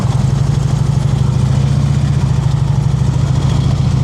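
A motorcycle engine held at a low, steady idle-like throttle during slow-speed riding practice, a continuous loaded rumble that stays even and close for the whole stretch with no talk over it.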